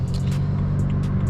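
BMW 335i N54 engine with a twin-disc organic clutch nearly stalling while pulling away, a close, heavy low rumble that stays steady and labouring, with a few faint clicks and knocks from inside the cabin.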